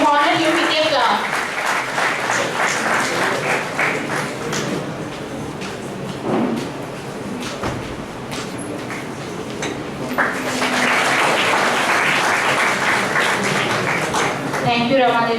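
Applause from an audience at the inaugural ceremony of an engineering faculty development programme, steady clapping filling the room throughout, briefly dipping mid-way before swelling again, with a voice speaking over it.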